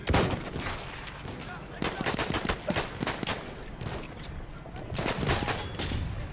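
A short gun fires repeatedly in Battlefield 1, sharp close shots in uneven clusters over a busy battlefield backdrop, loud and punchy.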